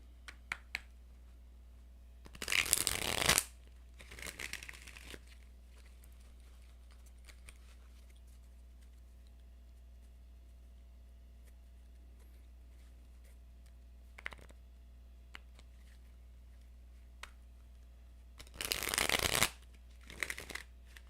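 Tarot cards shuffled in a quiet room in two short, crisp riffling bursts far apart, with a few faint taps and clicks between them over a low steady hum.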